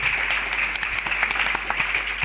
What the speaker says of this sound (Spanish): Un aplauso para la azafata